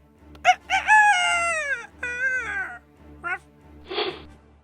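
A rooster crows loudly and up close, a drawn-out cock-a-doodle-doo with wavering harmonic calls, followed by a short squawk and a breathy burst, with a steady low hum underneath.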